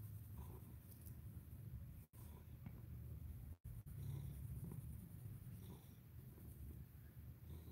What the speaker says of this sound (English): Purring like a little motor